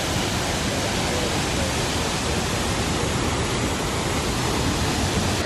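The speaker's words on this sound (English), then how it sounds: "This is a nice little angle of the waterfall." A waterfall roars in a constant, even wash of broadband noise, loud and unbroken from start to finish, with no voices over it.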